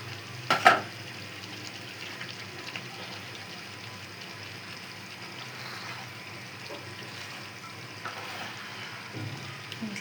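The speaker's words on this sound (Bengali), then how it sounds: "এই যে কলিজাগুলা দিয়ে নাড়াচাড়া করে নিচ্ছি" Liver sizzling and frying in a pan while being stirred, a steady crackling hiss with a sharp clatter of the spoon near the start.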